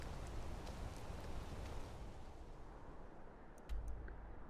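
Steady rain in the Skyrim game world, a dense continuous hiss of falling drops with a soft low rumble swelling briefly near the end, no voices.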